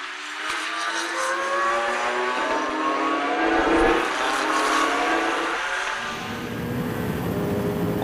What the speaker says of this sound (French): la lutte est intense entre la Porsche de Cordoni et la Ferrari de Berthet.